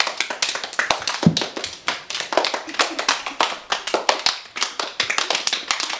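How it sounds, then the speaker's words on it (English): A group of people claps in a round of applause at a dance competition, loud and continuous with dense, rapid overlapping claps throughout. "Give yourself a round of applause."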